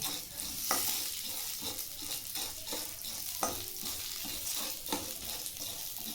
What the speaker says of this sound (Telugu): కొద్దిగా కలర్ మారేంత వరకు ఉద్దిపప్పును ఈ విధంగా వేయించుకుందాము.